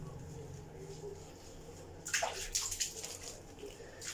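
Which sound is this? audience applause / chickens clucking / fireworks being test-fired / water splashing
water splashing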